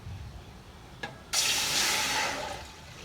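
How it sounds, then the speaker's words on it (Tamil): Water gushes into a cooking pot for temple-style pepper ghee pongal, a sudden loud pouring hiss after a brief clink, running steadily before easing off slightly. "ஃபஸ்ட்டு 2 பாத்திரத்தில் நம்ம தண்ணி ஊற்றிக்க போகிறோம்."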